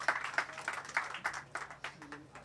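Audience applause at a mushaira poetry evening during an annual award night, greeting the poet Ghazanfar Hashmi: a soft, fairly distant patter of scattered claps with a faint voice in the background.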